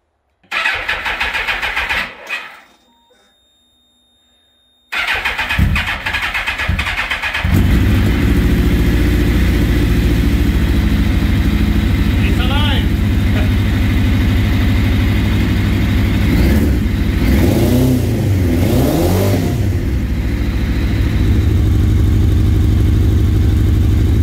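A Suzuki GSX-R 1000 K1 motorcycle, unused for about six months and on choke, cranks briefly, pauses, then catches and settles into a loud, steady fast idle with a few rising revs, close by.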